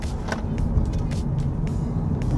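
A 2023 Hyundai Avante 1.6 gasoline car taking a corner at fair speed, steady engine and tyre rumble filling the cabin with light clicks and rustles over it, no talk.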